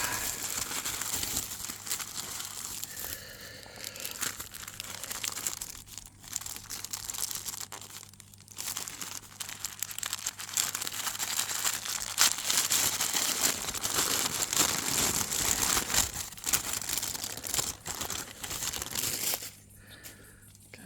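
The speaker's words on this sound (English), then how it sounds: "Unwrap." Packaging around a Damascus steel knife being unwrapped: steady close crinkling and crumpling of paper or plastic wrap, continuous rustling for about twenty seconds with brief quieter gaps and no speech.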